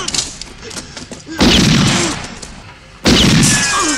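Gunshots ring out in the 1968 western film Once Upon a Time in the West. Two loud, booming shots land about two seconds apart, each with a long echoing tail, and people talk quietly before the first.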